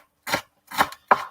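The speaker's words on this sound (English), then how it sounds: "I'm just chopping up some coriander to put on top at the end" Knife chopping fresh coriander on a board for a meatball-and-gravy dish: three separate crisp chops spaced about half a second apart, close and fairly loud, with silence between them.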